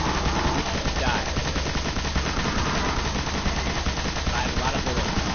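Rapid gunfire from the first Destiny video game, sustained automatic bursts that run loud and dense the whole time, with a player's voice talking over the shooting.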